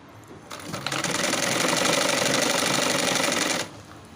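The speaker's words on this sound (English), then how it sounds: "Then start sewing." A sewing machine runs a steady, fast top stitch on a shirred dress: a close, continuous whirring hum lasting about three seconds, starting and stopping abruptly, with no talk.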